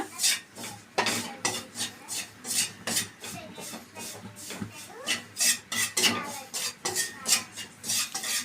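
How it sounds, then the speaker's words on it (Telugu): Wheat flour being dry-roasted and stirred in a pan, with a spoon rasping and scraping against the metal in repeated rhythmic strokes, close and fairly loud throughout. "దీన్ని కూడా బాగా వేయించుకోవాలి పచ్చివాసన పోయేంత వరకు వేయించుకోవాలి"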